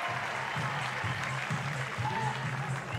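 A crowd at a college softball game between Texas A&M and St. Francis (PA) applauds and cheers in a steady roar, with a commentator's voice speaking over it.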